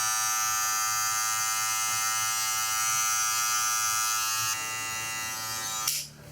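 A Rebels hair clipper running with reduced noise, giving a steady high electric buzz for several seconds. The buzz drops slightly partway through, then cuts off near the end.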